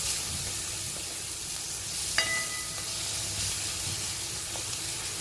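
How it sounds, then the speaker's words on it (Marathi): Medium-sized onion frying in a pan for a spicy sprouted moth bean curry, a steady soft sizzle and hiss throughout with a brief clink of a utensil midway. "कांदा चांगला भाजून घेऊया आपण."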